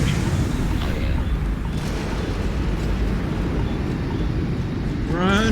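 Deep, heavy explosions rumble through a Starfield play session aboard a ghost ship, keeping up a dense, continuous low booming that swells near the end, with no speech.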